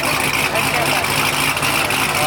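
Car engine with Kooks headers, X-pipe and full drop exhaust, idling as a steady, loud low rumble throughout with no break.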